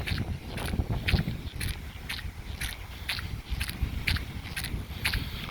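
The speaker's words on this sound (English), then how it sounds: "Sorry about that noise, but that's my shoes." Plastic water shoes squelch and scrape on wet sand during a low tide beach walk near Gulfport, giving a steady rhythm of roughly a dozen close, short squishy steps with no talk.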